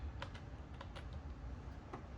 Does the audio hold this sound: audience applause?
no